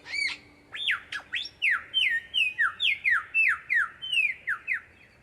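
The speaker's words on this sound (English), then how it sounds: "It gets noisy in the bush when the lyrebird does his spring mating dance." A lyrebird calls in the Australian bush in spring, giving a fast run of loud, sharp descending squawks and whistles that repeat steadily and close by.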